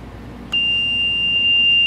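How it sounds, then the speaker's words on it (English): A wet bench process timer sounds once its cycle finishes: a sudden, loud, sustained electronic beep that begins abruptly and holds at a steady pitch, with faint background hum before it. "That's just a timer for you to let you know your process is finished."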